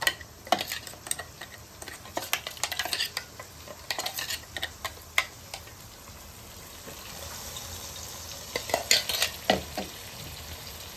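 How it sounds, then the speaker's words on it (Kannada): Masala paste thinned with a little water sizzles and fries in a pan for a fish curry, with scraping spoon strokes and clinks against the metal coming in uneven bursts that are louder near the start and end. "ಆ ಮಸಾಲೆಗೆ ಒಂಚೂರು ನೀರು ಹಾಕ್ಕೊಂಡು ಮಿಕ್ಸ್ ಮಾಡಿಕೊಂಡು ಬಾಣಲಿಗೆ ಹಾಕೊಳ್ಳೋಣ"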